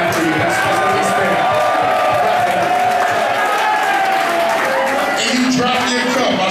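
Concert crowd at a live hip-hop show at The Met, a dense continuous wash of clapping, cheering and whoops, loud and steady throughout with scattered shouted voices in the mix.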